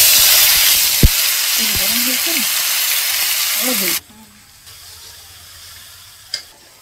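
Cardamom, cloves and cinnamon hit hot oil in a kadai with a loud, bright sizzle that holds steady for about four seconds, then drops to a faint hiss. A single clink is heard near the end.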